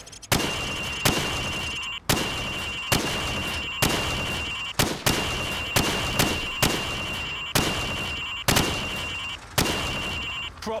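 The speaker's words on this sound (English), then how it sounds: "I want you to shoot the targets through the wood." Rapid rifle gunshots ring out in Call of Duty 4 training as pop-up targets are shot through wood, about a dozen sharp, loud cracks in an uneven rhythm, each with a metallic ping and short reverberant tail.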